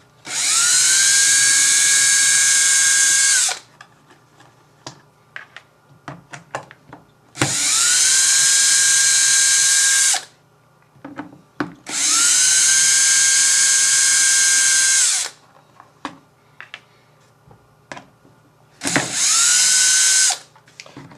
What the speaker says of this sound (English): If you take an old Allen key, cut it down and put it into an electric drill, it makes it a lot faster to undo all of these.